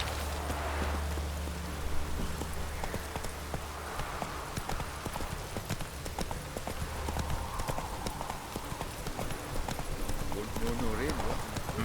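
Horse hooves clip-clop steadily in The Witcher 3 as the rider's horse is called and ridden through a city, a continuous rhythmic trot heard under someone talking over the game.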